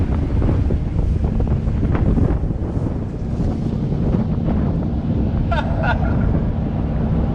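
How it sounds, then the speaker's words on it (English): Strong wind outdoors by an abandoned Barth motor home, buffeting the microphone as a loud, continuous rumbling roar that swells and dips, with a faint higher chirp near the end. "Sorry about the wind."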